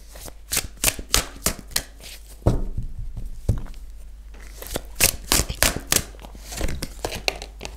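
Tarot cards riffled and shuffled by hand, rapid papery flicks and snaps in close, quick bursts with a short pause midway while cards are drawn, no one speaking.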